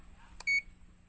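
A single short electronic beep from a multimeter continuity buzzer, clear and high-pitched, sounding briefly against near silence after a faint click.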